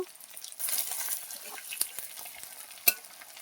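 Onion fries in a pan while being stirred toward brown, a moderate sizzle with scraping strokes of a spoon and a couple of sharp clinks against the pan, near and fairly soft, with no voices.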